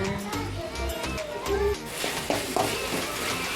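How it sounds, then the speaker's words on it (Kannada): Chilies and onions frying in a little oil for tomato chutney, a soft sizzle with stirring clatter of a spoon against the pan, while a person talks over it and faint children's voices sound nearby. "ಮೆಣಸಿನ್ಕಾಯಿ ಮತ್ತು ಈರುಳ್ಳಿಯನ್ನು ಹುರ್ಕೋಬೇಕು."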